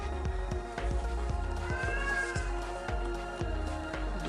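A pet cat meows at home, its cry fairly faint and blended into a busy background with steady low thumping beats.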